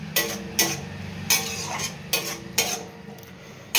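Ghee is stirred into finished banana-flower curry, mochar dalna, with the heat turned off. About seven crisp, regularly spaced spoon strokes scrape the pan over a faint background hiss, and no one speaks.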